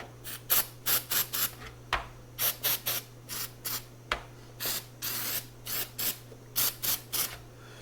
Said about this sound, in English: Spray a little bit of that in there.